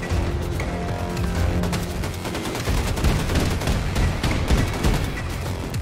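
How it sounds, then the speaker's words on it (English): Battle rifle fire in the Wolfenstein shooter, a dense, continuous barrage of loud gunshots and explosive booms amid heavy combat noise, with no clear pauses across the stretch. "Battle rifle."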